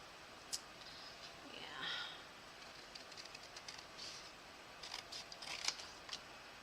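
Scissors snipping out crafting pieces, a string of crisp close cuts with a longer slicing stroke early on, quiet and without talk.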